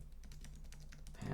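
Quick, irregular keystrokes on a computer keyboard while a password is typed into a web app form, close and fairly quiet, with a low hum underneath and a louder thump at the end.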